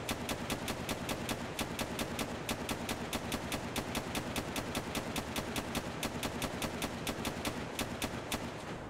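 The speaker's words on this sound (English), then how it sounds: "Continue shooting him." Gunfire in the video game DayZ, set to single fire, rings out as a rapid, evenly spaced string of sharp shots repeating steadily throughout with no pause.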